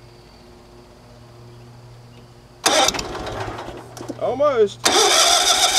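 A firewood splitter's small engine turning over under a pull or crank, sputtering without catching, loud and close, with a brief spoken word over it.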